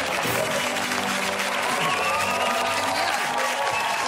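A studio audience on a Spanish entertainment show applauds after a breakdance performance, a dense, continuous roar of clapping that stays loud and even throughout.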